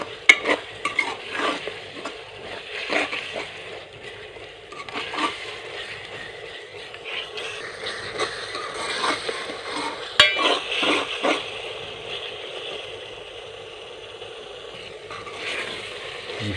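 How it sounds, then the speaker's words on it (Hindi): Masala spices sizzle and fry in a pot for a Pakistani aloo mongray dish while a spoon scrapes and stirs them in irregular strokes, close up and fairly quiet, with no talk. "मसाले को हम अच्छी तरह भून लेंगे।"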